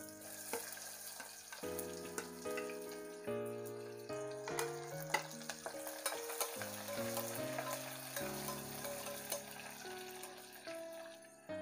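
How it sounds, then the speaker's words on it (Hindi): Sliced onions and whole spices frying in oil for a soya chunk vegetable biryani, with a steady close sizzle and occasional stirring scrapes over a continuous background of melodic tones. "प्याज को थोड़ा होने देते हैं।"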